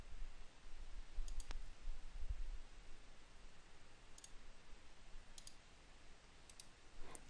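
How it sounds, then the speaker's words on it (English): A handful of faint, sharp mouse clicks while working in AutoCAD 2012, some in quick pairs, spaced irregularly over a quiet background hiss. "this I can right mouse click and it'll work fine"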